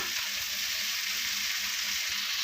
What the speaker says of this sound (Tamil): இப்போ நல்லா வதங்கட்டும் இப்போ வந்து முட்டையை சேர்த்துக்கலாம்